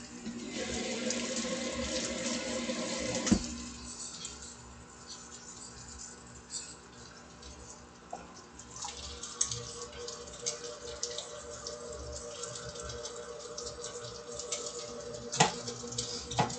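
Food is rinsed under a running kitchen tap, a steady hiss of flowing water that splashes and patters in the sink, louder at the start and then easing to a quieter stream with scattered drips and knocks.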